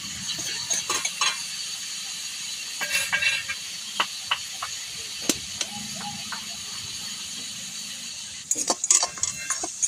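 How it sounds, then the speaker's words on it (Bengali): Onions with salt stirred in a pan for mutton curry, a soft hiss under irregular scrapes and clinks of a spoon against the pan, with a burst of busier scraping near the end. "লবণ দিয়ে নেড়ে নেব।"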